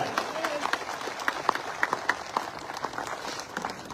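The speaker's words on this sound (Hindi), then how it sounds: "एक बार पुनः जोरदार तालियों के साथ ये आभार व्यक्त किया जाए" A crowd at an outdoor political rally in East Delhi applauds in thanks, giving fairly faint, scattered clapping with some louder individual claps that runs for the whole few seconds.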